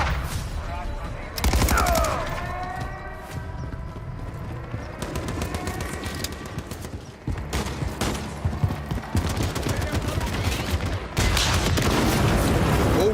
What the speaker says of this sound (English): got a mounted MG coming your way on an armored vehicle